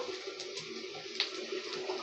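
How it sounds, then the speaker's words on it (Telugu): Hot water pours and splashes steadily into a sink as blanched cauliflower is strained, a soft continuous rush with a brief louder splash partway through. "ఈ క్యాలీఫ్లవర్ అంతా కూడా మనం స్ట్రైన్ చేసేద్దాము"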